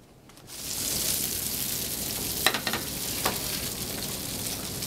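Fresh sardines with charmoula sizzle and spit under a hot oven broiler, a steady bright crackling frying hiss with a few sharper pops, close and fairly loud, with no voices.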